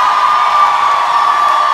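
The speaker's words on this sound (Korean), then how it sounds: "함성 질러볼까요?" A school audience cheers at a live concert, a dense, sustained crowd roar of shouts and whoops that stays loud and steady throughout with no break.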